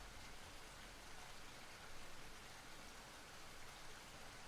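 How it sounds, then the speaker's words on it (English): Steady rain falls in a dense, even hiss throughout as evening comes on, with no voices and no breaks in the downpour. "we need to get shelter from this stupid rain"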